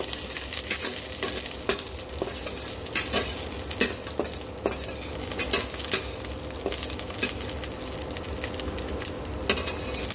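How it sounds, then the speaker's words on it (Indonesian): Steady sizzling of garlic frying in a pan, with occasional scraping and stirring clatter of a utensil, close up and continuous. "saya akan goreng bawang putih"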